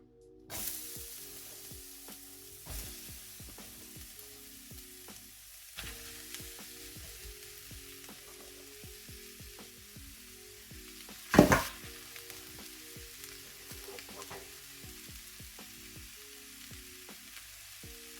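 Onions frying in a lightly oiled pan for French onion soup give a steady soft sizzle beneath background music, with scattered small crackles and one brief louder hissing burst partway through.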